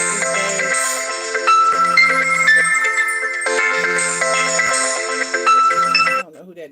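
A phone ringtone plays a bright repeating melodic pattern, loud and close, for several seconds before cutting off abruptly, with a voice starting just after.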